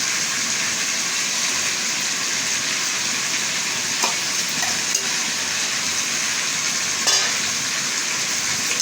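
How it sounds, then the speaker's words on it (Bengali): Potatoes join chicken curry frying in a pot for a bhuna khichuri meal with deshi chicken, a dense, steady hiss of sizzling oil with a few soft stirring knocks, close and without talk. "সেটার সাথে একটু আলুটাও দিয়ে দেবো এখন"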